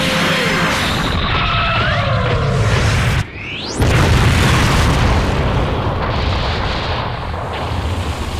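A cartoon grenade explosion from an animated parody. A loud, sustained booming roar breaks briefly, then a rising whoosh leads into a second long rumbling blast.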